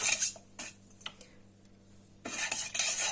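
A utensil stirs salt into warm water, clinking against the bowl in short bright taps with a quiet pause in the middle, close and alone.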